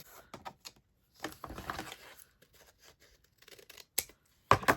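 Scissors snip along the edge of a paper zine in a handful of short, crisp cuts, close by and separated by quiet pauses, with a sharper snip near the end.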